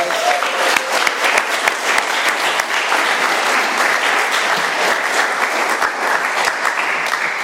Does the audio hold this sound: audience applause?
yes